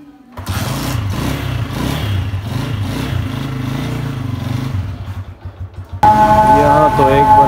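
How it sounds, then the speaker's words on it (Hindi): A motorcycle engine runs steadily at close range for several seconds with rising revs, then a louder tonal hum cuts in near the end. "बाइक स्टार्ट करते हैं।"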